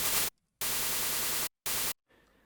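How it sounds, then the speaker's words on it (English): White noise from a Sytrus synth, lightly frequency-modulated to shape a psytrance snare, plays as three bright hissing bursts of uneven length, separated by short silences. "Basically is white noise with a little frequency modulation"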